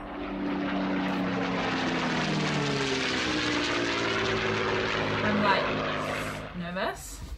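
An F-16 fighter jet takes off in a played video of Desert Storm, a loud sustained roaring engine drone with a falling tone that fades at the end.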